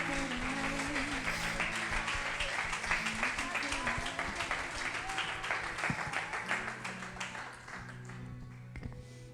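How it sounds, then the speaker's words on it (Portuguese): Broad, sustained applause from a church congregation fills the whole stretch, with music-like tones underneath and a gradual fade near the end. "Aplauda ao Senhor"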